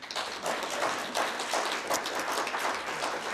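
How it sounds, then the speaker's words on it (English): An audience at a legislative candidate forum applauds for the candidates: a dense, steady round of clapping from a roomful of people that holds for several seconds without talk. "And you may give them a round of applause if you'd like."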